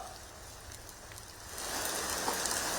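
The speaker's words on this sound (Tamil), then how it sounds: "தலைநகர் சென்னையில கனமழை கொட்ட தொடங்கி இருக்கிறது" Heavy rain pours down across Chennai as a steady broadband hiss, swelling louder partway through with scattered drop impacts and no voices.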